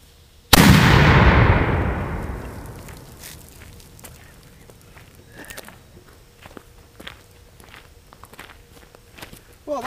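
A large thunder mug mortar, a firework signal device, fires with one loud, close boom that rolls away over several seconds, followed by scattered crackles and footsteps outdoors.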